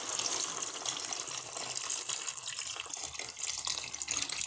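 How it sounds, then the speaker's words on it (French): Water poured into a cooking pot holding a shrimp stew with garlic and lemon juice, a faint, steady splashing and gurgling stream lasting a few seconds with no voices. "On va rajouter l'eau."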